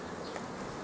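Honeybees hum steadily around a brood frame during hive splitting, a continuous close insect drone with no pauses and no voices.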